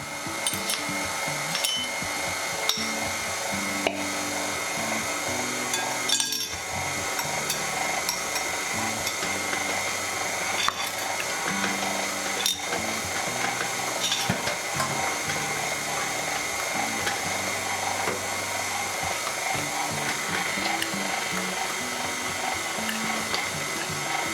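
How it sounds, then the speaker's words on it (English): A stand mixer with a dough hook kneads keto donut dough made with lupin flour, a continuous steady motor whir with rhythmic thumps and knocks as the dough turns. "So let's just let that mix together to get the dough."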